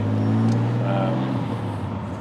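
A TVR T350C sports car drives along with a steady, low engine drone throughout, close and continuous, with a brief higher whine partway through.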